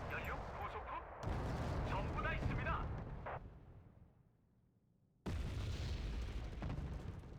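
Artillery fires in the Wargame: Red Dragon strategy game, booming shots and rumbling impacts under someone commenting. The din drops to near silence for a moment, then resumes at full loudness.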